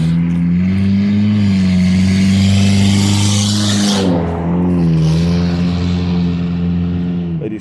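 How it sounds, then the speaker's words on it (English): Cars driving past, a loud close engine drone that rises and shifts pitch as one vehicle passes and another follows, steady throughout with no talk. "Let these cars go by."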